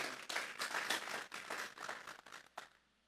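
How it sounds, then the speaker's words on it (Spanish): A church congregation breaks into applause during a sermon, a dense wash of many hands clapping at once for about two and a half seconds before trailing off into a final few claps. "Vamos a darle una ofrenda de palmas a Dios en esta hora."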